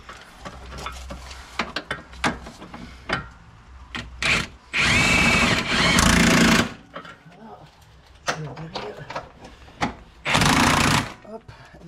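Power drill driving in the bolts of a turbocharger on a Porsche Turbo S during a turbo change, with two sustained loud whirring bursts of the drill between clanks of tools and someone talking in French.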